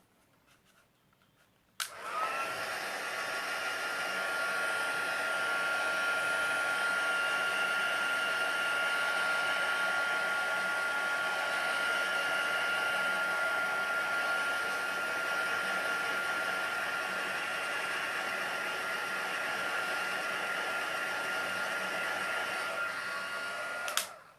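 A hair dryer blows steadily on an ink-and-water painting, switching on abruptly and running as a loud, even whoosh with a faint high whine for over twenty seconds before cutting off.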